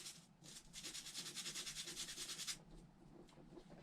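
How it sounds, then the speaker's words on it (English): Chainsaw carving burrs are scrubbed with Super Clean degreaser in quick, close, rhythmic rubbing strokes for a few seconds before the scrubbing stops, leaving a few faint scrapes. "It's foaming up from scrubbing, is turning green, so it's definitely removing some of the paint."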